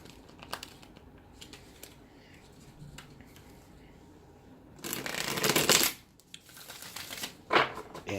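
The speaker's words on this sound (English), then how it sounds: "I'm gonna give your cards one more good shuffle." Tarot cards are shuffled close by: soft scattered ticks, then a loud riffling burst lasting about a second, followed by a few shorter flicks.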